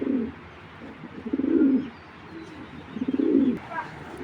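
A pair of Belgian racing pigeons coo in repeated throaty bursts, four rolling phrases about a second apart, close and fairly loud.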